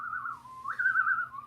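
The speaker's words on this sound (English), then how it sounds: "He keeps whistling." A person whistles a short wavering tune, one sustained note gliding up and down, close and clear.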